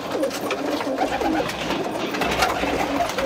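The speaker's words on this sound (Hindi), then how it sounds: "चले आइए फिर ज़रा कबूतर बाहर निकालते हैं अपने" Pigeons coo steadily and close by in a dense, continuous chorus as they are taken out of their coop, with loud cooing layered throughout and no one speaking.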